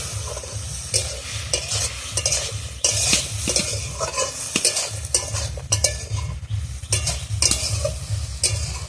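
Pumpkin greens curry with jackfruit seeds, papaya and prawns sizzles in a pan while a spatula scrapes and clatters repeatedly against the metal, close and busy, with no talk.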